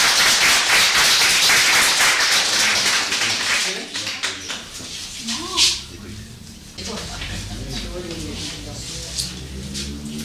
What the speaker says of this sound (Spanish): ya comenzamos siempre con un aplauso.